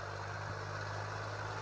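A modified New Holland 3037 tractor with a 39 HP engine idles steadily, giving a continuous low rumble and hum with no talk over it.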